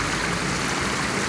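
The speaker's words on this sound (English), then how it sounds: "that's what provides enough water to feed the waterfall without it running dry" Steady rushing water from a waterfall feature inside a parking garage, fed from a deep 8–9 foot pit, pours continuously as a dense broadband wash with no talk over it.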